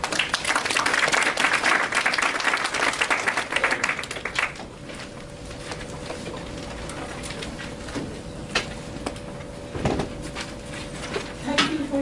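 A live audience claps warmly as a speaker is welcomed to the platform at a talk on women rising in Bangladesh, with loud dense applause for about four seconds that thins into scattered claps and quiet room noise.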